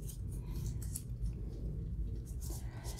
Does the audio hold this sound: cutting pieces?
yes